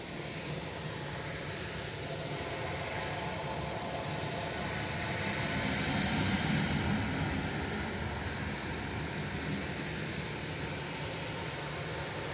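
A TUI passenger jet departing Manchester Airport for Salzburg, a broad steady engine roar heard from a distance that swells slightly midway, with no talk.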